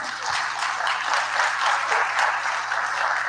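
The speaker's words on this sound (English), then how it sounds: "please give these two a round of applause" A presentation-night audience applauds steadily and fairly loudly from start to finish, a dense wash of clapping that holds its level without dying away.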